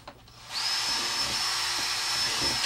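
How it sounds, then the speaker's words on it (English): A power drill bores holes through the plastic wall of a worm bin, starting after a brief pause and then running as one steady, high, close-up whine that lasts to the end. "I'm going to show you how to drill your holes into your bin."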